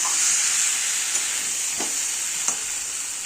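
Spiced potato curry (niramish aloo dum) frying in a pan, a steady loud sizzle with a few soft scrapes of stirring, close up, with no voices.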